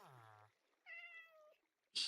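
Cat meowing in the Minecraft video game, two short distinct meows with a gap between them, followed by a brief hissy burst at the end, fairly faint overall.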